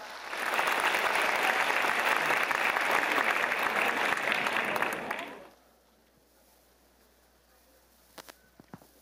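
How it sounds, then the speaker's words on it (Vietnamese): A congregation at a church pastoral gathering welcomes a young priest with a burst of loud, dense applause lasting about five seconds, then near silence broken by a few soft knocks. "một tràng pháo tay đầy cha Nguyễn Thiết Thắng"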